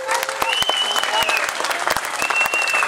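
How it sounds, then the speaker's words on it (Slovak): A crowd at a carp fishing competition applauds the winner, a dense patter of many hands clapping steadily and close by, with a few voices calling out over it. "Ale v každom prípade veľký potlesk pre tohto pretekára."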